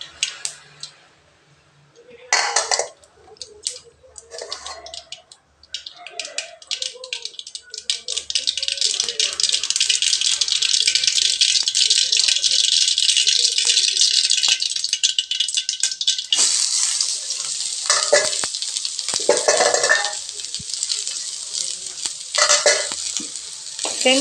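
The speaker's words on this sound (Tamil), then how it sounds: "வெங்காயம் நல்லா வதங்கட்டுங்க" Finely chopped onions sauté in a pan after mustard seeds have popped. A loud, continuous sizzle builds and holds, broken by rattling stirring and scraping. A few sounds come before the frying starts.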